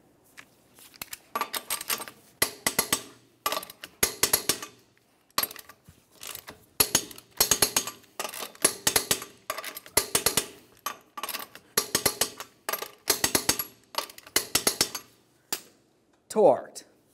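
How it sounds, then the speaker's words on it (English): Lug nuts on a 1994-2002 Dodge Ram 2500 front wheel being torqued in a crisscross pattern, giving a long series of sharp metallic clicks and ratchet bursts in regular clusters, close and fairly loud, with a brief voice near the end. "With the wheel safely on the ground, we'll be torquing these in a crisscross manner."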